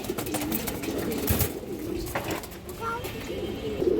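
Domestic pigeons of an old bloodline, a mixed group of males and females, coo softly and repeatedly, close by amid low background noise and faint talk.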